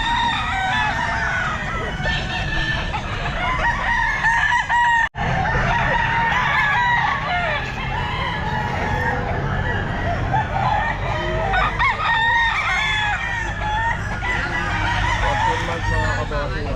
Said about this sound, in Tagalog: Ayan mga manok po niya.